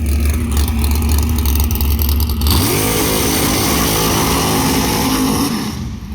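A 4-second drag racing car at a Mopar drag event does a big burnout: a loud, low engine idle rumbles, then sharply revs up and holds a high, screaming roar for several seconds before easing off at the end.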